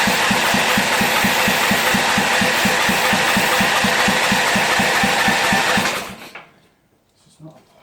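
A Briggs & Stratton small engine, primed with starting spray with throttle and fuel on, fires and runs loud with a fast steady chug for about six seconds, then cuts out abruptly into quiet.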